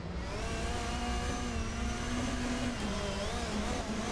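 A car engine in the Assetto Corsa racing game holds a steady, loud revving drone with no talking, easing slightly near the end as the throttle lets off.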